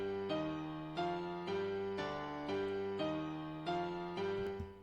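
A beat melody doubled across four octaves repeats a short synth phrase in even, bouncy pulses, about nine notes in a steady loop, fairly quiet and clean with no voices.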